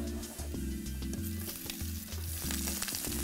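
Shrimp and fresh garlic hitting hot oil in a pan for an Asian-style shrimp and vegetable spaghettini, a loud steady sizzle with the pan tossed and scraped in rhythmic bursts, close and continuous with no talking.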